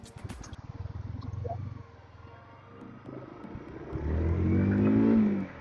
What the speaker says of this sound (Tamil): இன்ஜின் சவுண்ட் எப்படி வேற லெவலில் இருக்கா.